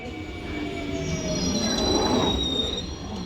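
A London Underground Jubilee Line 1996 stock train arrives at Dollis Hill station with loud, continuous wheel squeal and rumble, heard close and steady throughout with no talking.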